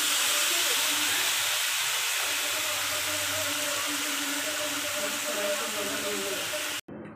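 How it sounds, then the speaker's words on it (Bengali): Meat goes into a hot pot for a Bangladeshi-style cooking session, giving a loud, steady steaming hiss and sizzle that runs continuously for about seven seconds before cutting off abruptly near the end. "মাংসটা দিতেছি"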